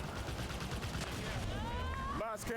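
Cannon fire and shooting in the video game Halo 5: Guardians, a dense continuous barrage of gunfire with swooping electronic weapon tones near the end, loud and busy throughout.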